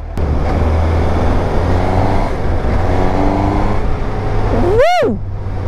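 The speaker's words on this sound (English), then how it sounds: "The inline four engine." A Suzuki GSX-S750 motorcycle with a stock inline-four engine accelerates on a ride. The engine drones steadily and climbs in pitch through the gears, then a loud whooshing rise and fall cuts across near the end.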